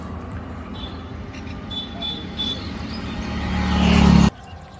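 Heavy road traffic passes on a busy street in Gangarampur beside a parked motorbike. A steady rumble of vehicles builds into a louder, closer pass near the end, then cuts off abruptly.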